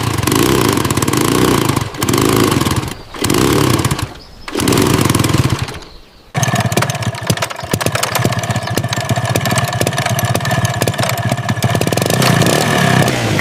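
Classic red motorcycle engine revving hard under sharp throttle twists, loud and close, with a choppy mechanical rhythm that drops out briefly before settling into a steady, rough running idle.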